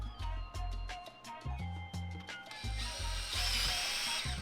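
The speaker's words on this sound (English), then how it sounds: "take your 15th, 64th, and drill these holes" A drill biting into a metal plate for a Ford Bronco dash mount, with repeated short bursts and pauses as the bit grinds through, rising to a harsher, steady whine near the end.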